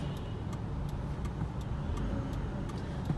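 Road traffic on the way to a parking area hums as a low, steady rumble of car engines, moderately close, with a faint repeated ticking like a turn signal over it.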